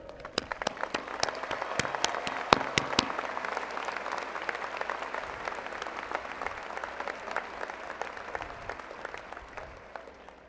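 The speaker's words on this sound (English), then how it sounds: "join me in a round of applause for the parents, grandparents, and families of our graduates who supported them this day" Steady, sustained applause fills a large hall at the UNC-Chapel Hill 2014 spring commencement, honoring graduates' parents, grandparents and families; many hands clap evenly from a distance, with a few sharper claps standing out early.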